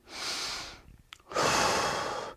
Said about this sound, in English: You want to breathe in, belly go out, belly coming in.